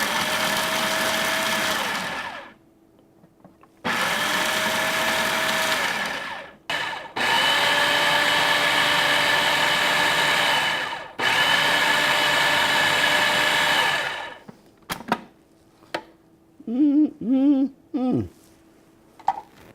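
A food processor pulses potato and pea pesto ingredients in several loud bursts of whirring motor, each lasting a few seconds with brief gaps, followed by short stuttering pulses as the blades slow.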